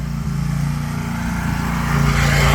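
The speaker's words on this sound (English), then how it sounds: "got a lawnmower going by" Steady, droning engine of a lawn mower passing outside, a continuous low hum that grows gradually louder over a couple of seconds with no talk over it.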